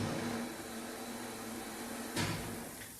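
Steady broadband buzzing and hiss from air ionization (corona) at the tip of a high-voltage power cable during an insulation strength test, continuous and fairly faint with a brief crackle near the end.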